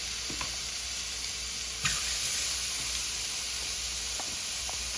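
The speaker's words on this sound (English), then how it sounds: "I'm going to let them sear. I'm not putting no grease in my skillet." Oxtails seasoned with salt, pepper and saffron sear in a skillet with no added grease, giving a steady close sizzle with occasional soft pops and clinks throughout.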